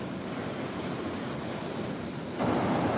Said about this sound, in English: Waves are pretty good this morning.